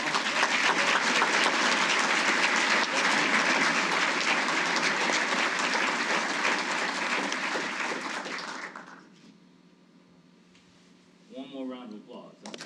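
Dense applause from an awards ceremony audience fills the room for about nine seconds, then fades out, leaving quiet room tone before a voice begins speaking near the end.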